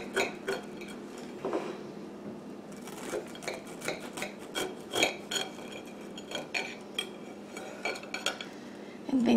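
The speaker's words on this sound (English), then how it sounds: "And then you slice it" Knife cutting through Southern skillet bread (hoe cake) in a skillet, with repeated scraping clinks of metal on the pan in an irregular rhythm, close and fairly quiet.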